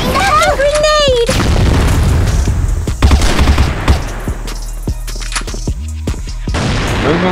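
A grenade explosion in the CrossFire video game booms loudly amid bursts of close gunfire and sharp shots, with in-game voices and effects layered over the din.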